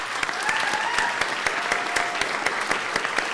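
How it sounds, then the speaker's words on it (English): Audience applause at a 2017 municipal election councillor forum, a steady patter of many hands clapping for about three seconds, evenly sustained without a clear rise or fade. "Join me in giving a round of applause for these fine people."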